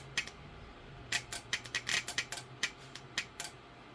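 A Lexus GS VSC component clicks repeatedly, sharp near clicks coming in an uneven series of about a dozen over a few seconds, with a faint low hum underneath.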